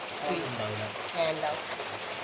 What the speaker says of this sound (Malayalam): ഇവിടെ നല്ല മഴ ചെയ്യുന്നുണ്ട് കേട്ടോ